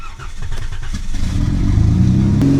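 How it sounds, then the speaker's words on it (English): An engine in a cheap $1,000 minivan revs up on its own, rising from a rough idle into a loud, climbing drone of steady harmonics. "Why is it revving so much?"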